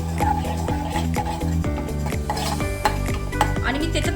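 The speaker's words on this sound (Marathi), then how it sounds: "अर्धा चम्मच आपण त्याच्यामध्ये विनेगर घेतलेला आहे व्यवस्थित आपण मिक्स करून घेऊ" A spoon stirs vinegar into Manchurian sauce in a pan, scraping and clinking in a quick, steady rhythm over a soft sizzle, close and alone without voices.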